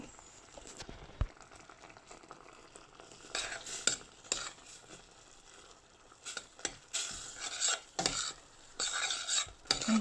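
Cassia leaves being stirred in coconut milk in a pot, quiet scraping and sloshing strokes with soft clinks of the utensil, growing busier and louder toward the end.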